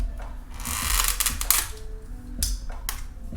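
Flat metal wire is twisted to tighten new boards onto a fire knife, producing close mechanical clicks and rasping scrapes in short bursts, fairly loud, with no talking.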